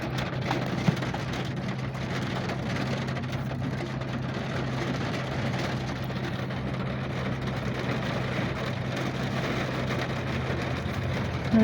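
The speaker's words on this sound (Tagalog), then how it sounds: "Oy, raining. Guys, umuulan dito sa Bahrain." Steady rain falls in Bahrain as a constant even hiss of drops on surfaces, with a low mechanical hum underneath throughout and no voices.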